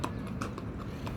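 Horse hooves clip-clop at a steady trot, a few clear knocks spaced evenly over low background noise, at a market day in a park in Saudi Arabia.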